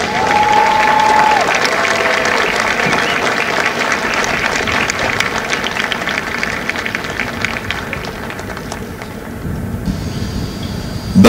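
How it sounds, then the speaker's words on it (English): A large crowd at a Marine Corps recruit graduation ceremony in San Diego applauds steadily and loudly for several seconds, with scattered cheers mixed in, before the clapping thins out toward the end. "please join me in a round of applause for the company staff of Company H"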